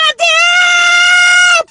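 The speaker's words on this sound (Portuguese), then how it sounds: "Dá outro grito agora pra finalizar." A person lets out one long, loud, high-pitched scream, sustained and close for well over a second after a short breath.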